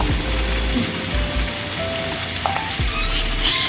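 Thick-cut chopped onions with salt frying in hot oil, a loud dense continuous sizzle close by with a few faint clinks and scrapes of the pan, no voices.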